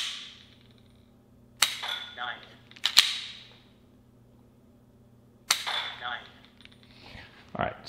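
Laser training pistol fired dry at a target system, giving a few sharp clicks spaced apart with quiet gaps between them, each followed by short electronic tones.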